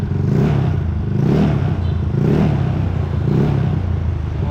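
A Yamaha Mio Amore scooter engine, restored, revs up and down in steady waves, loud and close with a clattering buzz throughout, no talking over it.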